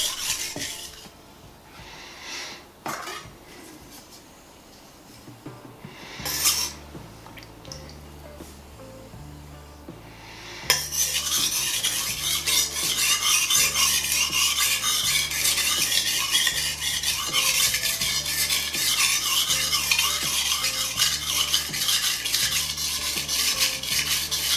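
A knife blade rasps back and forth across a whetstone, first in a few scattered strokes over near silence, then in steady rhythmic grinding passes that continue loud and close.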